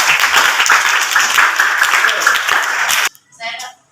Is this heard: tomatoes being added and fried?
no